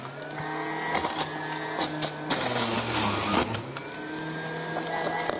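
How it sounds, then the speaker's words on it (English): A Cuisinart CJE-500 compact centrifugal juicer runs as carrots are fed in, a loud, steady motor whir with grinding surges and pitch dips each time the motor labors under the load. "So let's go ahead and add some more carrots."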